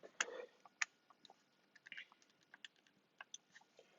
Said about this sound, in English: let me find a calculator and type that in